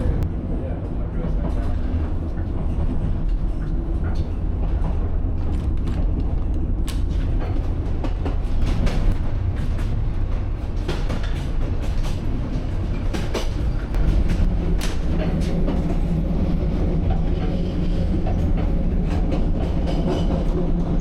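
A train rolls along narrow-gauge rails of the Balatonfenyves Economic Railway in Hungary, with a loud, continuous rumble, rhythmic clicks and clacks from the wheels, and some talk in the background.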